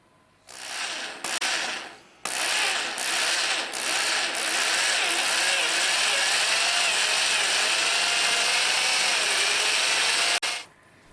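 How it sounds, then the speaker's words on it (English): A power drill bores holes into a hollow wooden mast for eye bolts, a steady close whirring grind running almost continuously after a few short bursts at the start, then cutting off near the end. "I measure how deep to drill to fit with the threads, and mark this on the drill."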